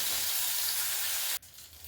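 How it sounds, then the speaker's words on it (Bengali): Shrimp rubbed with salt and turmeric fry in mustard oil in a wok, a loud close hissing sizzle that drops abruptly near the end to a quieter crackle. "কড়াই সর্ষের তেল দিয়েছি, তার মধ্যে চিংড়ি মাছগুলো ভেজে নেব।"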